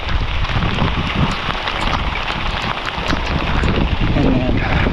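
Heavy, wind-driven rain beats steadily against surfaces on a Hawaii farm during Hurricane Lala, with gusts buffeting the microphone and a constant loud roar.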